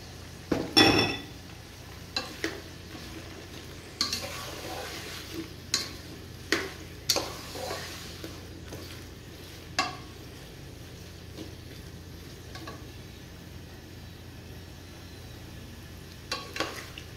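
Cubed potatoes and eggplant fry in a pan: a faint, low steady sizzle under sparse, irregular knocks and clacks of a spoon against the pan.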